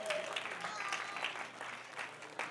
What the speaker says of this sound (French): Si on peut encore applaudir.